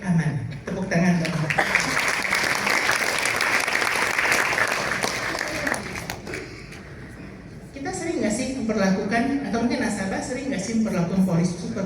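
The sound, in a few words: applause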